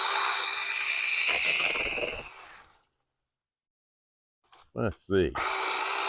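A TOMY six-inch mini electric chainsaw trims branches on an old tree, its motor whining steadily for about two seconds before winding down to silence, followed by a few short spoken words.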